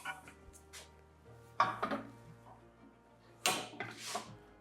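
A Robot Coupe CL50 commercial food processor grates food in a quiet kitchen setting, giving off a few sharp clattering bursts of loading and grating with faint mechanical whirring between them.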